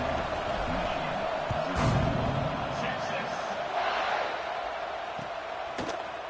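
A stadium crowd at a football game roars continuously and swells briefly, with a commentator's voice running over the din.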